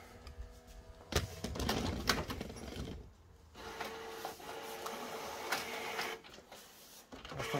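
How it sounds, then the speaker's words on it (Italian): A Canon MAXIFY MB5150/MB5450 inkjet printer powering back on with ink cartridges installed, giving a steady run of mechanical whirring, clicks and carriage movements with short pauses, heard close up and alone. "riaccendiamo la stampante con le cartucce inserite"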